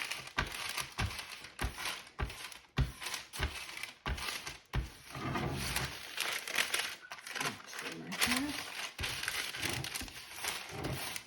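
Parchment paper crinkles and crackles in repeated sharp bursts as it is pressed over cracker dough in a home kitchen, fairly close and soft.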